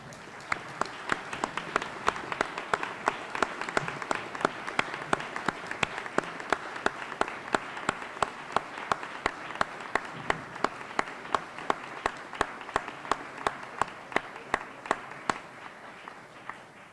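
An auditorium audience at a 30th-anniversary gathering for the Illinois constitutional convention gives steady, sustained applause lasting the whole stretch, a dense roomful of clapping with sharp individual claps standing out, fading slightly toward the end.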